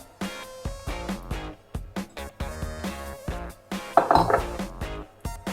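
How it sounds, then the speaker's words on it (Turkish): A spoon stirs a pizza topping mixture of water, salt, thyme, chili flakes and olive oil in a bowl. It makes loud, rhythmic clinks and scrapes close up, with no talk. "Bir çay bardağı suyu kabımızın içerisine alıp karıştırıyoruz"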